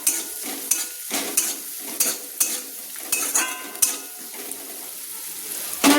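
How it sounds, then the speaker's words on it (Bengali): Ground garam masala and spices frying in a pan for a banana-flower chop filling, stirred in short bursts of scraping and clinking against the pan over a soft sizzle, close up with no talk. "দিয়ে দিলাম আমি গরম মশলা গুঁড়ো, দিয়ে একটু নেড়ে নিলাম।"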